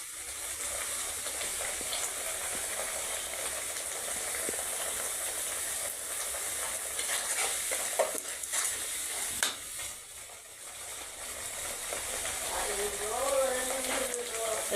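Spice masala fries and is stirred in a pan before chickpeas go in, giving a soft continuous sizzle and hiss with occasional scrapes and clatter, while a voice talks briefly near the end.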